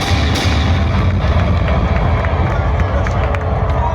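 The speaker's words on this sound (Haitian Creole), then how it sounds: "Applaudis Mathilde Georges pour me remercier" Crowd at a local championship award ceremony applauding and cheering for a named best-player winner, a loud dense continuous roar of clapping and shouting, with voices mixed in.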